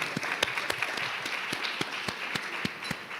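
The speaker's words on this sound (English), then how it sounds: "So give us a round of applause for our panelists and thank them," An audience at a Right to Know Week conference claps for the panelists, with a steady wash of applause and a few sharper individual claps standing out, fairly close and continuing throughout.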